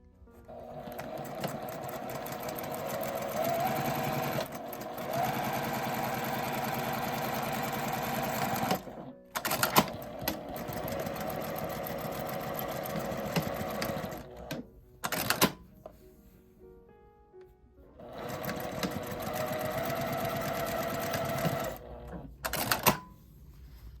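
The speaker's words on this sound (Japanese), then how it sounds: "返し口を開けて1センチの縫い代で縫います。" A sewing machine runs in long steady bursts, stitching a drawstring bag seam with a 1 cm seam allowance on leftover fabric, pausing briefly between runs. The motor hum is close and continuous, with no talking.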